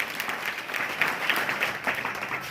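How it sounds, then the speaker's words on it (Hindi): Audience applause for Class 8 schoolgirl debate winners at a school science day event in Nagaur, steady dense clapping throughout, moderately loud with no talk over it. "जोरदार तालियां एक बार इनके लिए।"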